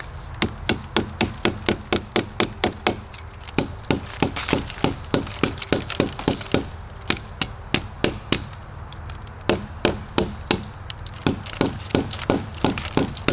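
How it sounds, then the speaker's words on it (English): Repeated hammer blows strike a Gideon Optics Alpha red dot sight mounted on a wooden block, sharp woody knocks coming in quick steady bursts with brief pauses, close and loud with no talking. "Just hammering away"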